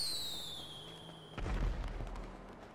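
Firework in GTA 5 gameplay: a rising whistle streaks upward for over a second, then cuts to a sharp boom followed by crackling bursts, moderately loud.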